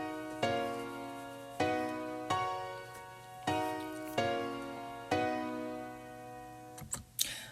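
A stacked piano layer plays chords in the higher octaves, five struck chords ringing and slowly decaying at an even pace, followed by a brief clatter near the end; no voices.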